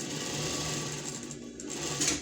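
A sewing machine stitches upcycled scrap fabric for a homemade pet bed, running in a continuous close mechanical hum and whir that rises slightly near the end, with no voices.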